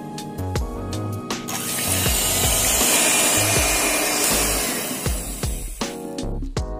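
An electric beater whips eggs with masala and a pinch of salt in a bowl, giving a close motor whir that starts with short bursts, runs steadily at full loudness, then drops back to stuttering pulses.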